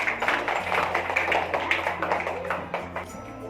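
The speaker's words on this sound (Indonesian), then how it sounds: "Kasih tepuk tangan." A class of students in a school lesson clapping their hands together, a dense, fairly close patter of many claps lasting a few seconds before tapering off.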